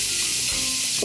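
Beurre manié is whisked into pan cooking juices for Dijon chicken, giving a close, continuous bright sizzle and stirring hiss with a few soft scrapes, and no talking.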